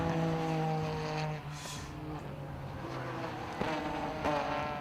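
A BMW M3 race car at Snetterton circuit during a 750 Motor Club race passes with a steady, buzzing engine note at moderate distance, fading slightly then returning, with no talk over it.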